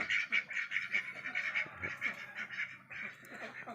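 Many ducks of several breeds quack continuously on a duck breeding farm, a dense overlapping chorus of nasal calls close by, with a faint voice now and then.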